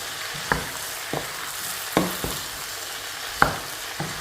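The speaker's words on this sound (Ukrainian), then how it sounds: "Файненько всяк перемішую із кабачками і буду жарити все разом." Zucchini lecho with tomatoes and peppers sizzles softly in a pot while a spoon stirs it, giving a steady fry hiss punctuated by several sharp scraping clicks spaced irregularly; no voices.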